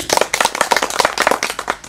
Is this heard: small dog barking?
no